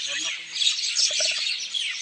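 Small birds chirp and tweet in quick, scattered calls, with a dense high chorus of birdsong throughout and short clustered notes near the middle, at moderate distance outdoors.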